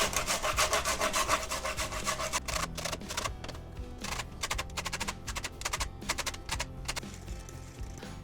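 An orange is scraped across a grater for zest for a yogurt cake, rapid rhythmic rasping strokes close by, dense at first and then in quicker, separated bursts.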